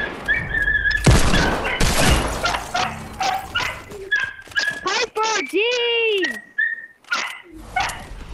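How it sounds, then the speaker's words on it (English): A pet dog indoors, heard while Fortnite is being played, gives several yelps and whining barks in bursts, loud and close, mixed in among shouted talk from a player. "It's my dog."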